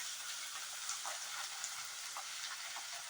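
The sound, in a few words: soaked moong dal frying in oil with onion, chili, garlic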